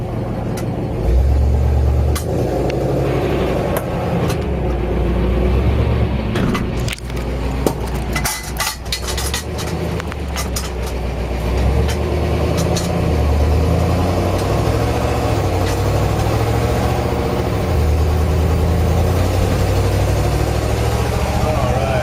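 A 1950 Oldsmobile station wagon engine runs steadily for the whole stretch, a low continuous mid-pitched drone with a few sharp knocks and rattles in the middle, close and fairly loud with no talking.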